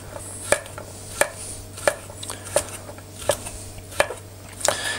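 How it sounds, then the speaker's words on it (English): A knife dices seeded vegetables on a cutting board with evenly spaced sharp chops, about seven distinct strikes at a steady pace, close and clear over a quiet background hum. "And then we're just going to cut it pretty small."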